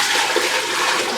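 Water poured steadily into an Instant Pot pressure cooker for soup, a continuous close rushing splash lasting about a second with no talk.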